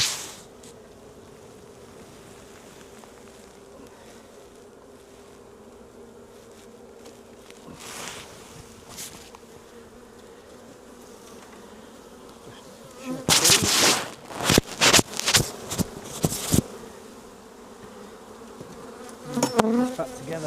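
Honey bees buzz around an open hive during an inspection: a faint steady hum underlies the scene, with louder, close bursts of buzzing as individual bees fly past, clustering in a busy flurry partway through.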